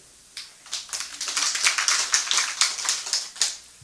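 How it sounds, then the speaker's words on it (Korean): A church congregation at a Korean worship service claps together, a dense, fairly rapid patter of many hands that builds quickly and carries on steadily, without voices. "손뼉 쳐보세요."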